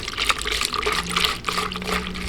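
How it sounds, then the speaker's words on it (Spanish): Water is poured from close by into a container of bleach being diluted to lighten jeans, giving a bubbling, splashing fill with a trickling, liquid texture that runs continuously for a couple of seconds. "ahorita le voy a echar un poquito más de agua"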